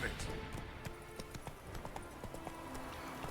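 Roach, a horse in The Witcher 3, gallops with quick, rhythmic clip-clopping hoofbeats under a talking voice.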